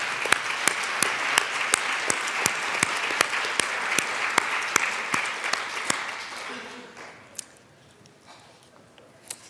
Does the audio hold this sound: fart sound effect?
no